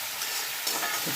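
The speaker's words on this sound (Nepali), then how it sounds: "एकछिन मजालाई अब ठक्कसँगले राखेर हल्का यो फ्राई हुनु दिनुपर्छ" Food fries in a pan with a steady, moderately loud sizzle and crackle that continues for a moment, alone with no talking.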